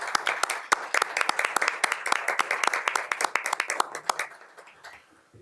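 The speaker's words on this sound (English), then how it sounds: "one last round of applause for all our thespians" An audience at a school board meeting gives a final round of applause for student thespians, with dense, lively clapping from many hands that gradually thins out and stops.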